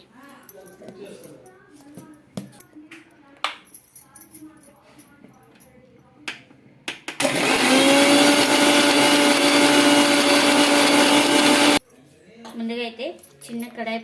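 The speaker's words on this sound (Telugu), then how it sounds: "ఒక నాలుగు పచ్చిమిర్చి చిన్న అల్లం ముక్క వేసుకొని మిక్సీకి అయితే గ్రైండ్ చేసుకోవాలండి" Kitchen mixer grinder blending green chillies and a small piece of ginger, a loud steady whirring burst of about five seconds, with someone talking before and after it.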